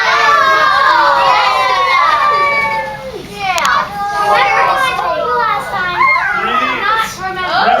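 Many children shout and call out together in a classroom, a loud continuous jumble of overlapping young voices with rising and falling yells throughout.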